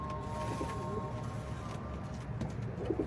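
Pigeons coo close by, soft low repeated calls rising over a steady background hum.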